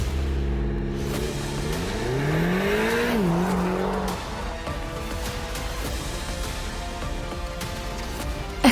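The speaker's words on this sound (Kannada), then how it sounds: "ಇತ್ತ ವಿರಾಜ್ ಫಾಸ್ಟ್ ಆಗಿ ಕಾರ್ ಡ್ರೈವ್ ಮಾಡೋಕೆ ಶುರು ಮಾಡ್ದ." A car speeding off with a rising engine rev and a loud tire squeal, then a steady fast drive, staged as a dramatic audio-story effect with no talking.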